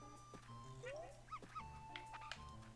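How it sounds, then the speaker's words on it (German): A cartoonish dog in the video game Yoshi's Crafted World gives a few short, yippy barks and whimpers over soft game music, quiet and close, without talk. "Da bellt irgendjemand"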